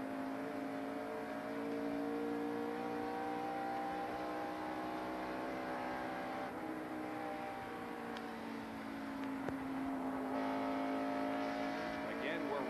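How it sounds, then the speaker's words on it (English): Harry Gant's stock car engine drones loud and steady from onboard during the 1990 TranSouth 500, holding a high sustained pitch with slight shifts as the car laps, a commentator talking over it. "we're riding with Harry Gant with the camera mounted on his helmet"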